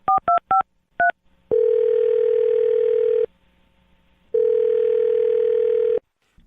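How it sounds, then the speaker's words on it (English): Five quick touch-tone beeps from a keypad, then two long ringback tones separated by a pause of quiet line hum. "I'm going to dial his phone number right now"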